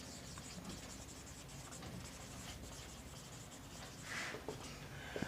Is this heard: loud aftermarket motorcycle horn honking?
no